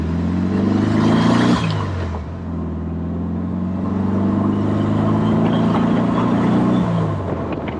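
A Porsche 356 Speedster's engine drones steadily while driving, rising in pitch as it accelerates, dipping briefly around a gear change, then climbing again before easing off; close and loud, with no talking.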